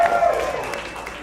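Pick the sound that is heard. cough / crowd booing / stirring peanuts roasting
crowd booing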